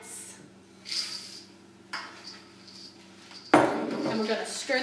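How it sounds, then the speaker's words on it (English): Spoon scraping and clinking against a bowl while old-fashioned rolled oats are stirred into a mixture, in irregular bursts of knocks and scrapes with a sharper clatter near the end. "And we're going to stir those in a little bit."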